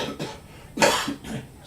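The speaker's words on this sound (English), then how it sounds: "Smoker's cough." A person's harsh, raspy smoker's cough, a few rough bursts close to the mic, with the loudest hack in the middle and no talking.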